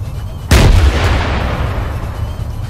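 A single loud, sharp gunshot blast in the video game Arma 3, with a booming low rumble that decays slowly into a noisy background.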